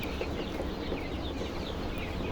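Broiler chickens on a poultry farm, about forty days old and weighing one to one and a half kilograms, cluck and chatter as a dense, continuous flock din at moderate level, with no speech.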